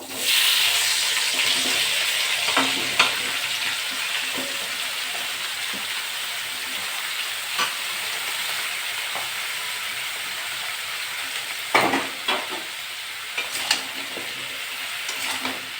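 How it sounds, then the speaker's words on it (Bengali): Young jackfruit fries in oil after potatoes are lifted out, giving a continuous hissing sizzle with scattered scrapes and clacks from stirring, a couple of sharper knocks near the end. "এই তেলে আমি ইঁচড়টা দিয়ে দেবো।"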